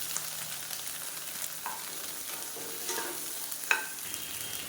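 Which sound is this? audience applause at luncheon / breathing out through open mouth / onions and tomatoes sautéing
onions and tomatoes sautéing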